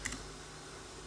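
Typing on a computer keyboard, with a couple of quick key clicks at the start, then quiet background hum and no talk.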